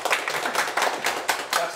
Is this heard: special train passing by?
no